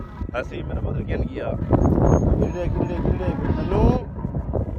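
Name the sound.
strong wind blowing into the microphone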